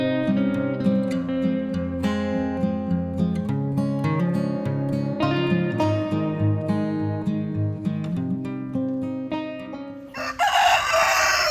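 A rooster crows several times in a row with chickens clucking around it on a small poultry farm, the sound loud and close, and a burst of broadband noise at the very end.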